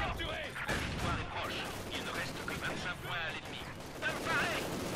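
Artillery shells fire and explode in the video game Company of Heroes 2, with dense booms and battle noise rumbling throughout under ongoing chatter in the game.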